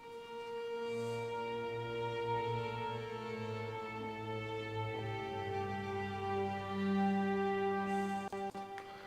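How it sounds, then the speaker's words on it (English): Layered sustained string notes with a sinister feel play over a 90s boom bap beat, holding long tones that shift pitch slowly in a smooth, continuous, moderately quiet passage. "I've played some strings over the top to give it a slightly sinister edge."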